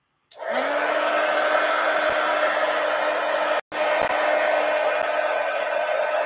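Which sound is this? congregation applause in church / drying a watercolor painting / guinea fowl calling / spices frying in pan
drying a watercolor painting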